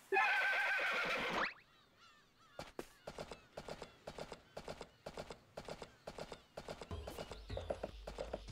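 A horse in the farming video game Story of Seasons: A Wonderful Life lets out a loud, bright whinny, then after a brief pause its hooves clip-clop in a steady, even rhythm, close and clear, with faint fowl-like calls near the end.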